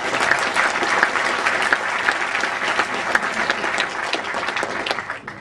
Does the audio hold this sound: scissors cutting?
no